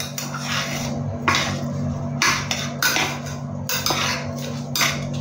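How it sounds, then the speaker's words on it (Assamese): Rice being stirred in a metal pot, a utensil scraping and knocking against the sides in repeated strokes roughly every second, close and fairly loud over a low steady hum. "গোটেইকেইটা চাউলে আকৌ অলপ লৰাই দিছোঁ"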